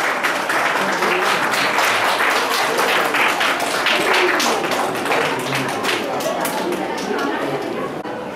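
Sustained loud applause at a best-teacher award ceremony in Chamba, dense clapping from a large crowd that fills the room and fades slightly toward the end, with voices murmuring underneath.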